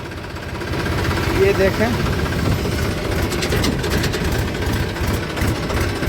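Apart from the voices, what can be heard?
tractor engine running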